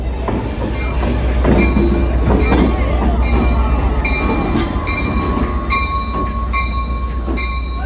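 A roughly 100-year-old train rolls slowly through Old Town Sacramento during an engine switch, its wheels squealing and screeching in repeated high-pitched bursts over a low rumble and clatter of rail cars.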